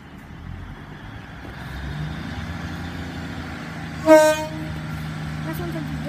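A Class 150 diesel multiple unit train rumbles steadily with a low engine drone at Highbridge & Burnham station, and a short horn toot sounds partway through over faint background chatter.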